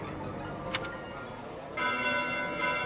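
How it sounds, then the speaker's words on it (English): Church bells toll late at night in Fire Emblem Three Houses, a faint, distant ringing that swells and grows louder partway through over a quiet ambient background. "Bells? This late at night?"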